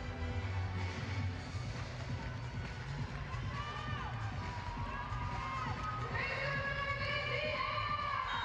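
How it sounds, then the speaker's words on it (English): Arena crowd cheering at match point of a pro volleyball game at Gas South Arena, a steady, distant roar of voices sustained throughout, with whistles and shouts rising toward the end. "Crowd on its feet at Gas South Arena."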